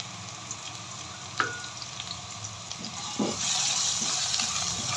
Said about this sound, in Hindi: इसी देर तक भूनेंगे जब तक अच्छे से हमें इसकी खुशबू ना आने लग जाए